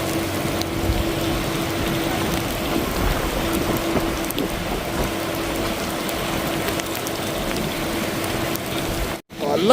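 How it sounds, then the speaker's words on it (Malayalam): Heavy summer rain pours down in Dubai as a steady, dense hiss of drops on surfaces, loud and unbroken for nearly ten seconds before a brief cut near the end. "ഇത്രയും മഴ ഉണ്ടാവുമെന്ന് പ്രതീക്ഷിച്ചില്ല എന്തായാലും."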